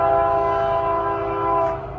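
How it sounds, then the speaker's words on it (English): Train horn sounding a sustained multi-tone blast close to the tracks over rolling rumble, fading slightly at the end. "there's that train again"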